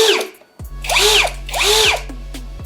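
A new Dagmara cordless drill with a metal chuck whirs up twice in short bursts, each a rising and falling motor whine, close and fairly loud, with a brief click before the first run.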